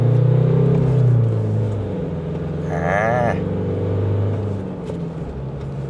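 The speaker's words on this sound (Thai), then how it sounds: "ตอนนี้ผมอยู่เกียร์2นะ ผมจะเร่งเลย" A Mazda BT-50 pickup with a 2.2 engine and manual gearbox accelerates in second gear, its steady low engine drone building and swelling beneath a brief spoken syllable and some road noise.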